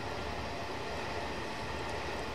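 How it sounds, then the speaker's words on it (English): A high-speed train in Train Simulator 2015 runs with a steady, broad rushing roar, an even rolling noise heard alone at moderate level. "Obviously we are on a high speed train."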